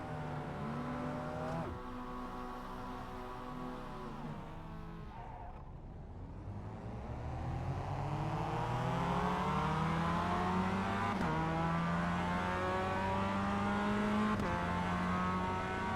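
Race cars at the start of a race roar through rising revs and gear changes, engines swelling from a steady idle-like drone into loud, climbing acceleration as several cars pull away together.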